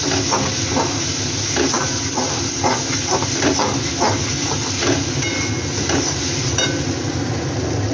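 Spices sizzle and hiss steadily in a hot pan after a little sugar is added, a loud continuous frying crackle with faint stirring scrapes throughout.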